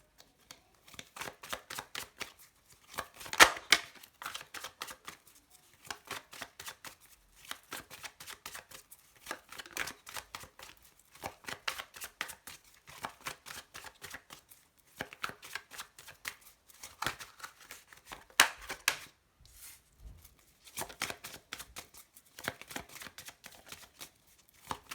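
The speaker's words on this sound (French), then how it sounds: "Alors, hop, je prends mes cartes." Tarot cards handled and shuffled by hand, a long run of quick papery riffles and flicks in repeated bursts with short pauses between them, close and fairly quiet, with no talking.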